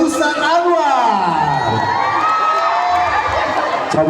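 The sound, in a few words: audience applause and cheering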